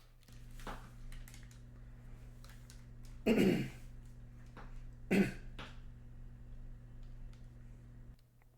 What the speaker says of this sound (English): Clearing my throat because of that coffee I had earlier.